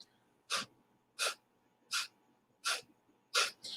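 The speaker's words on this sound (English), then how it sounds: "it's gonna sound almost like you're sneezing. It's like a shooting exhale." Forceful, sharp exhales in a breathing exercise, sneeze-like bursts of air repeating five times at a steady pace of roughly one every 0.7 seconds, close and clear against near silence.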